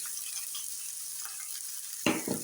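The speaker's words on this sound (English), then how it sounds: "As my onions are still cooking" Onions fry in a pan with a faint, steady sizzle, then a couple of brief louder stirring scrapes near the end.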